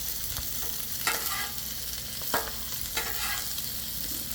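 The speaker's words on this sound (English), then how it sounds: "I'm going to go ahead and just give these potatoes a quick flip, see what they're doing" Potatoes fry with a steady sizzle on a Blackstone griddle, broken by a few sharp scraping flips of a spatula against the flat-top, close and with no talking.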